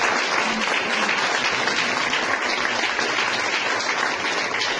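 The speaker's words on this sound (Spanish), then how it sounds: "Vamos a dar un aplauso a Cristo Jesús en esta mañana" A church congregation claps in praise during a Spanish-language morning worship service, a dense, steady wash of applause filling the whole stretch with no pause.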